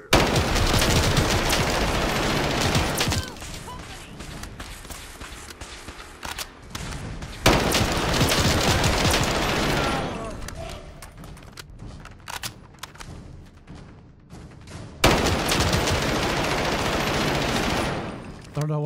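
Gunfire in Fallout 4 arrives as loud bursts of rapid shots in three clusters with quieter gaps between, sharp cracks over a rumbling backdrop.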